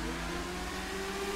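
Engine of a motorbike in a Grand Theft Auto V bike race revs steadily, a continuous droning hum with a rising pitch near the end, loud and close throughout.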